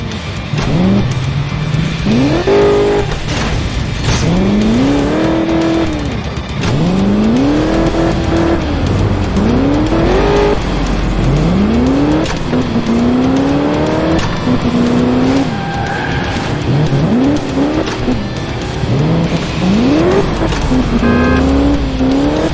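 Car engine in a police chase in the Crash Time 4 video game on Xbox 360, with tires squealing repeatedly and rising revs looping through loud, continuous driving noise.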